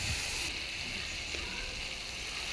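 Ground mustard, ginger and tomato paste hitting hot mustard oil with panch phoron for a Bengali vegetarian cabbage dish, a loud, steady hissing sizzle that flares at the start and continues evenly, close up and without talk.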